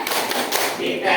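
A group claps together in a rhythmic clapping game, giving a quick run of sharp, close hand claps with voices mixed in.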